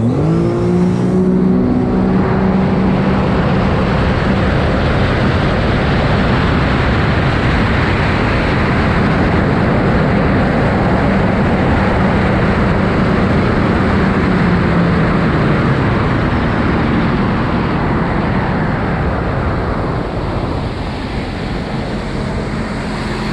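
A 2020 Sea-Doo RXT-X 300 personal watercraft fitted with a DIY blow-off valve runs steadily on the water, its loud engine drone and spray rush holding at an even level throughout, without any talk.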